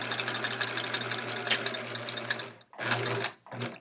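A sewing machine with a walking foot, fitted with a fresh sharp needle, quilting a chevron quilt. The motor hums steadily up close with a fast stitching rhythm, stops briefly, then runs again in two shorter bursts.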